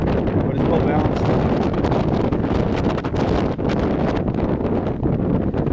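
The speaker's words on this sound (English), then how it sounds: "That wind is picking up." Strong wind buffets a microphone outdoors, a loud, continuous low roar of rumbling gusts with a voice faintly mixed underneath.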